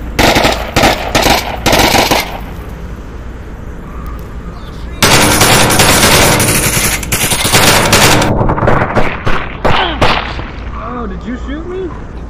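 Rapid automatic bursts and single shots crack loudly and close in the VR shooter Onward, with long stretches of sustained fire and a few pauses between volleys. Voices can be heard faintly under the gunfire.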